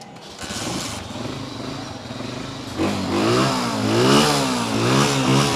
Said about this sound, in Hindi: साउंड सुने दोस्तों। होंडा 125 मॉडल आप इसकी बात सुने ज़रा सी भी